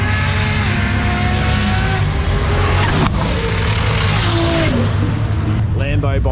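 Lamborghini and an old Ford Fairlane in a roll race at a Sydney roll racing event, engines roaring loud and continuous with rising revs, a tire chirp, and a commentator talking over it.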